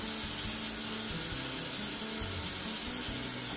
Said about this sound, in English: I'm going to put it in water.